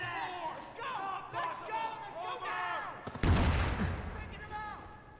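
Gunfire in the shooter game Spec Ops: The Line, with a loud burst of shots in the second half, under people talking throughout.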